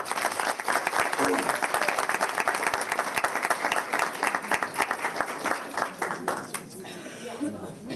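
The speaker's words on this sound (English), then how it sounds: "I'd like to give a big round of applause to Ahmed" A room of people at an evening board of education meeting applauds a student, steady dense clapping that carries on for several seconds before thinning out.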